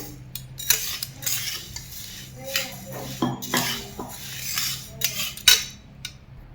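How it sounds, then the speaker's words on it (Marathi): Moong dal dry-roasting in a pan while being stirred, giving a steady run of close scraping and clinking from a metal spatula against the pan, with dry grains rustling between the strokes and no talking. "आता आपण मुगाची डाळ भाजून घेऊया"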